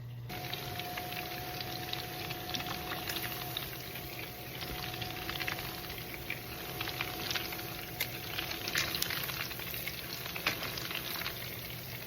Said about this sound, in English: Look at that sizzle, baby. Okay, the meatballs are done frying